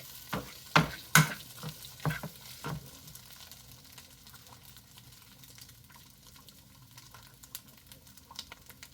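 Steak heating in a frying pan, starting with a few loud clanks and scrapes of the pan, then settling into a faint, steady low sizzle.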